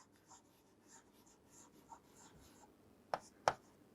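Writing on a board during a Class IX biology lesson on plant tissues: faint, soft scratching strokes across a quiet room, ending in two sharper, louder taps of the marker or chalk.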